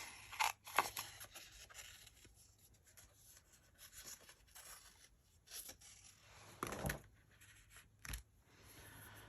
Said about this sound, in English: Let me cut this one out.